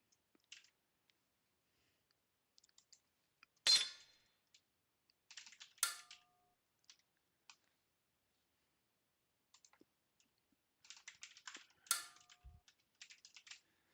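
Someone types on a computer keyboard during a Hellish Quart gaming tournament, producing sparse, quiet clicks in scattered bursts. A few sharper, louder key strikes stand out among them, with no talking.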